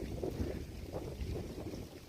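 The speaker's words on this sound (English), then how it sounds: "It's kind of windy" Steady wind buffeting the microphone, a low rumbling roar that swells and dips continuously throughout.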